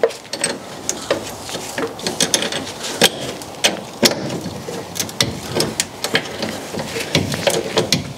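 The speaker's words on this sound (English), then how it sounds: "Micro Pro Tools ratchet" A Micro Pro Tools ratchet working on a K10 square-body truck, giving rapid repeated clicking bursts in an uneven rhythm with sharp tool clanks, loud and close, with no talking.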